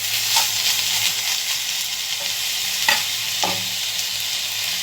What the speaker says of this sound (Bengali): এখন এটা আমি ভেজে নিচ্ছি।